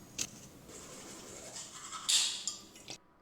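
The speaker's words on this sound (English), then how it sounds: "So he brushes his teeth." Teeth are brushed with a toothbrush, giving close scratchy scrubbing strokes with a few sharper bursts and a clatter near the end.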